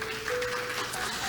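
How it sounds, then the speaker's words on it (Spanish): A church congregation applauds during a Spanish-language worship service, a short burst of crowd clapping with a steady tone sustained underneath. "Denle un aplauso al Señor."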